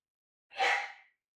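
A single sneeze bursts out close to the microphone, a short breathy blast of about half a second that fades quickly into silence.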